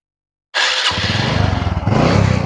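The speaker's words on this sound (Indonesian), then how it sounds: "Langsung tak sepilin mesinnya mas." A Honda Supra 125 motorcycle engine starts abruptly and settles into a steady, throbbing idle, close and loud with no talk over it.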